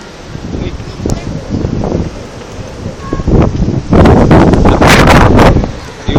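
Strong wind gusts buffet the microphone at Tagaytay, roaring in loud, uneven surges that swell heavily toward the end, with leaves rustling and a voice speaking beneath the blasts.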